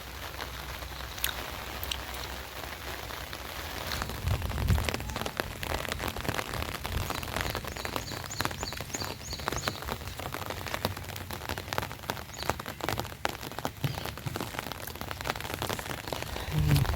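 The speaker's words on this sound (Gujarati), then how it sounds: "વરસાદ ચાલુ છે અહીંયા" Heavy rain falls steadily at a village temple with a thick, close patter and dense drop hits that grow a little louder partway through, with no voices.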